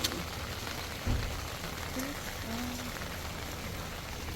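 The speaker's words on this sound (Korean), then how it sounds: "와, 비 오는 날 재밌다." Rain falls steadily on a rainy day, a constant close hiss of drops on surfaces with a few faint thumps and brief tonal squeaks, no clear talking.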